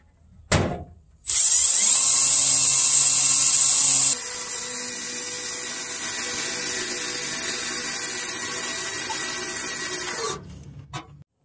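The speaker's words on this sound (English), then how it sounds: "Now we're going to make our first hole here in the metal." A power drill bites into metal with a loud, sustained high-pitched whine that shifts pitch midway, then stops abruptly; a brief knock comes before it starts.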